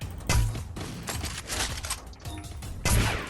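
Loud, booming gunshots burst out repeatedly with heavy thuds and a sustained roar of flamethrower fire in between, dense and chaotic, in the video game Free Fire.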